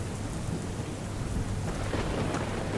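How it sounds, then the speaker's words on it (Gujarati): Heavy rain pours steadily with low rumbling thunder rolling beneath it, a dense continuous wash of sound with no voices. "ઉત્તર પ્રદેશમાં ભારે વરસાદ વરસ્યો છે."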